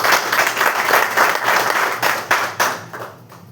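An audience at a network marketing talk about Forever Living Products bursts into sustained applause, many hands clapping together at close range before the sound tapers off at the end.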